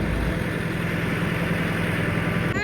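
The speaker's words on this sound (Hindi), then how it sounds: "मिकाइल ट्रैक्टर देख रहा है, ट्रैक्टर देखने के लिए बाहर निकला है" A tractor engine runs outdoors with a continuous low idling drone, steady and fairly loud throughout, with no voices.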